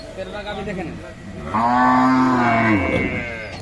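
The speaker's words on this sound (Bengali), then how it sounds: "এগুলো গাভী" A cow gives one long, loud, drawn-out moo after a moment of quieter background sound, close by and clearly heard, at a cattle market.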